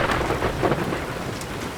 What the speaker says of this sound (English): that's a thunderstorm